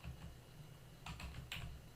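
Fingers typing on a computer keyboard, a few quick faint key clicks in two small clusters over a low steady hum.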